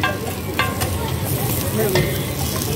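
Veg kebabs made from sattu and chickpeas fry at a street vendor's stall for kebab rolls, giving a steady close sizzle with scraping stirs and bustling street noise around it.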